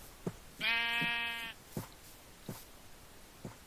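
A single clear sheep bleat in the Minecraft Twilight Forest mod, a wavering nasal cry lasting about a second, with a few faint soft thuds before and after in an otherwise quiet setting.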